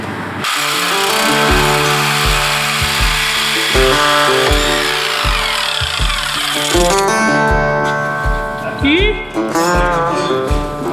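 A power saw cuts out a cross member on a Dodge Durango truck frame during a one-ton swap, a loud close metallic whine broken by rhythmic strokes and short pauses throughout.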